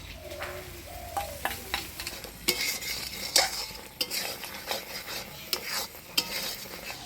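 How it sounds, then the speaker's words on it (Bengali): Spices and prawn heads frying in a pan while being stirred, a quiet sizzle broken by repeated sharp utensil scrapes and knocks against the pan, no talking. "এখানে চিংড়ি মাছের মাথাগুলো বাইটে রাখছি, এটাও দিয়ে দেবো মশলা কষানোর মধ্যে।"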